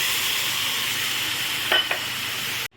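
Ripe mango pulp fries in a pan over a very low flame for mango barfi, giving a steady close sizzling hiss broken by a couple of brief spoon scrapes and clinks near the end.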